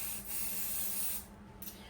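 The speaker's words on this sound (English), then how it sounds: "We're gonna adhere it on with my spray and bond onto the inside of the pocket." Spray adhesive hisses from a can onto embroidery stabilizer for a pocket, one steady close burst of about a second that stops, followed by a faint rustle and a sharp tap.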